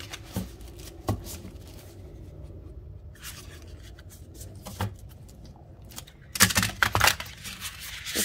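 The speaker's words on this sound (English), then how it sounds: "I like to do a shuffle and a three-card collective message for you." Tarot cards from a thick, wide deck are shuffled up close in short, irregular bursts of flicking and sliding, growing louder and busier toward the end.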